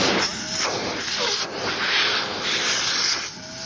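Hose suction from a Shark Navigator Anti Allergen upright vacuum rushes in a loud, close, breathy hiss, swelling and dipping in rough surges as the nozzle moves.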